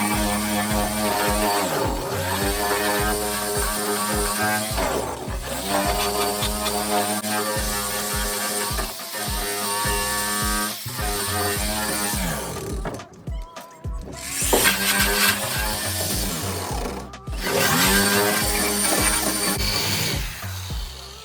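A sander grinds across the bare metal floor pan of a 1969 Dodge Charger using a heavier grit, a loud continuous abrasive whir with uneven pulsing and brief pauses, close by and alone.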